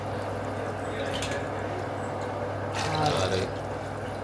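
Cooking water from beef is poured into a pot for beef biryani, with a soft splashing gurgle, rising briefly near the end over a low steady background hum.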